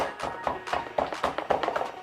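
A spoon knocks thick homemade butter pecan ice cream off an ice cream maker's paddle, giving a run of close, fairly loud taps and clunks at an uneven rhythm with no voices.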